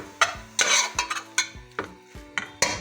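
Chopped green coriander is stirred into a spice mixture in a pan for radish paratha filling, giving a run of about eight rhythmic scraping, clinking strokes of a spoon against metal, close and clear, with no talking.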